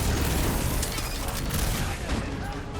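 Rapid gunfire and booming weapon blasts from the Guardians of the Galaxy video game, a dense continuous barrage that stays loud throughout the clip.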